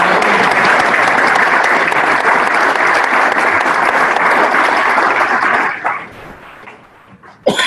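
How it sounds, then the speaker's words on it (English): A round of applause at a Rotary club meeting, full steady clapping from a roomful of people that tapers off and dies out over the last couple of seconds. "All right, one more round of applause."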